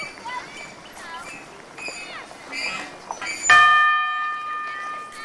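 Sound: child ringing a bell at playground

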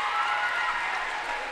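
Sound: crowd at girls' basketball game applauding a player

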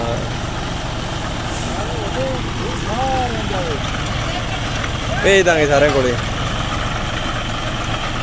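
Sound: Sonalika and John Deere tractors idling with Shaktiman grinder machine

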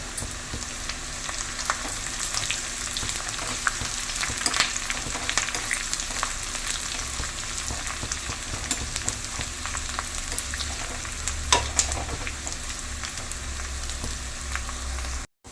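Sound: onions and curry leaves frying in a pan

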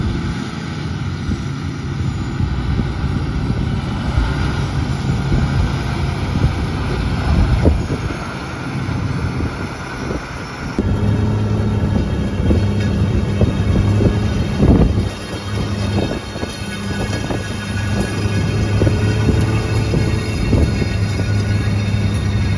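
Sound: John Deere 9RX 830 tractor pulling a 40-foot disc

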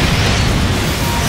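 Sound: nuclear explosion in Gundam Extreme Vs. video game

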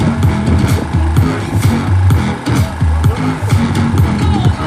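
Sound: 600cc motorcycle racing past

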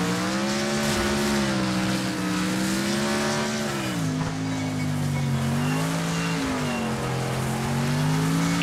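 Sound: car accelerating in Wreckfest video game

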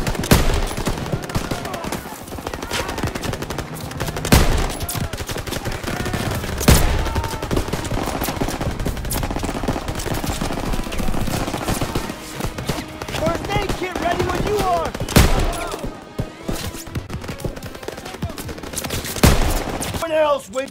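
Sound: machine gun fire

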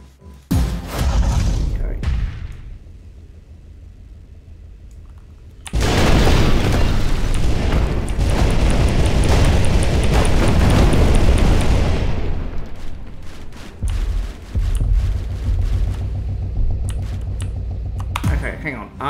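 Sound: cannon firing and exploding in the video game Instruments of Destruction

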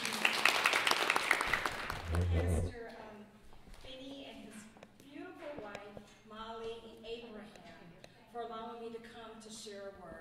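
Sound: audience applause for a guest speaker

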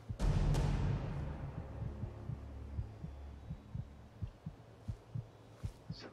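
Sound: heart beating sound in Skyrim video game

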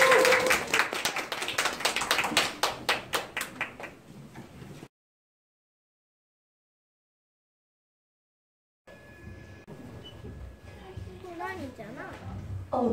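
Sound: audience applause welcoming performers

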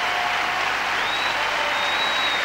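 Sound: crowd applauding a figure skating pair

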